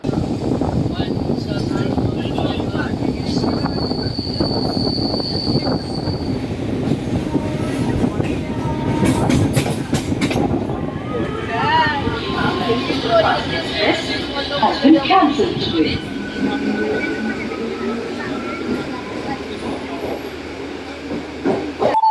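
Steady rumble and rattle of a local passenger train from Howrah running on rails, with voices talking over the noise throughout.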